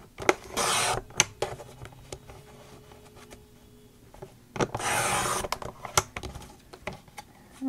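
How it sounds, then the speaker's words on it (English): Tissue tape is cut into strips along a metal edge in two short scraping runs, separated by soft taps, rustles and handling noise, close and fairly quiet. "I'm going to cut my strips. I'm just going to follow that metal edge there."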